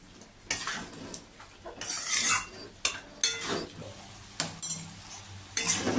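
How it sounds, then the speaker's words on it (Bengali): Banana flower (mocha) and prawns being stirred in a pan, with a spoon scraping and clinking against the metal in irregular bursts, close up, under a faint background hum. "এবার মোচাটা দিয়ে দিলাম এবার আমি নাড়তে থাকবো"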